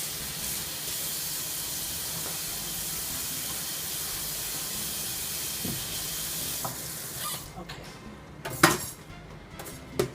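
Running water rinses over a surface in a kitchen with a steady broadband hiss, ending with a few clanks of dishes and utensils as the flow stops.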